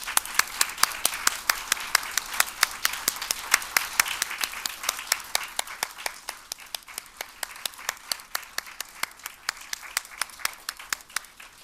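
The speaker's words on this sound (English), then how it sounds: "let's give them one more applause" Audience applause at a middle school speech contest, a soft wash of clapping punctuated by sharp, regular nearby claps that settle into a steady rhythmic beat and continue to the end.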